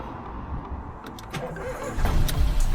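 A Ford EcoBoost engine with a non-start fault cranks with a rough, churning rumble, then catches and roars louder near the end, running steadily close by with no voices.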